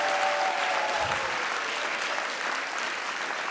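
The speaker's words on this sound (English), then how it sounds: "Can we give a round of applause to all the staff members?" Steady applause from a large audience fills a graduation ceremony for staff members, continuous and fairly loud throughout.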